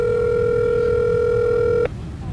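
A disconnected telephone line gives a steady, loud electronic tone that holds for almost two seconds and then cuts off abruptly, leaving faint background hiss.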